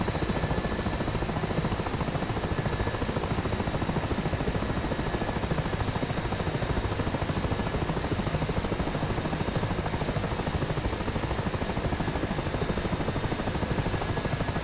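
A Mi-8 helicopter's engines and rotor drone continuously in DCS World at reduced throttle, a steady, loud, unbroken whine-and-thrum with no change across the whole stretch.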